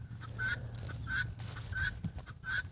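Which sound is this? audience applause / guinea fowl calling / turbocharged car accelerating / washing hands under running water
guinea fowl calling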